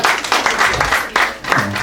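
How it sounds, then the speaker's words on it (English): A comedy club crowd claps after a stand-up comedian's joke, a brief burst of applause with uneven clusters of hand claps, fairly close and lively, with some voice mixed in. "Y'all can clap up for that."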